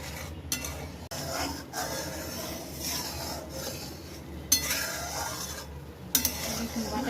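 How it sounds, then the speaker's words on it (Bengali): Butter melting and starting to boil in a pan for homemade ghee, giving a steady crackling bubble throughout, with a few sharp clinks of a utensil against the pan. "বাটারটা গলে এখন ফুটতে শুরু করেছে।"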